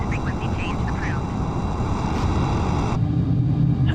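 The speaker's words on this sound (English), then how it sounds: "here's the Afterburners in full effect" Afterburners on a supersonic military jet in Microsoft Flight Simulator 2020, a steady, loud, broad roar that holds throughout and shifts to a deeper rumble near the end, with a voice talking over it.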